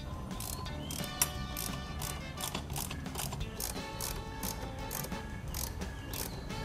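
A hex key turns rapid rhythmic ratcheting clicks while accessory bolts are tightened on a Honda ADV160 scooter, a steady close mechanical clatter running without pause and no talk.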